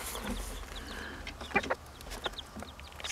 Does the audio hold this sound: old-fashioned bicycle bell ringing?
no